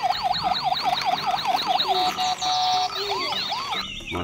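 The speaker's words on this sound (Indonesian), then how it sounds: "Mobil ambulan." A toy ambulance's loud, close electronic siren wailing in rapid repeating cycles, then shifting to a steady tone and other siren patterns, with no talking.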